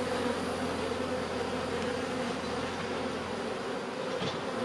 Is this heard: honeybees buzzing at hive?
yes